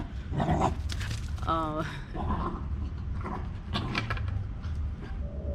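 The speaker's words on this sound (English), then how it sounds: "dog's going crazy" A dog yaps and whines excitedly in short bursts over a busy background, with a person talking throughout nearby.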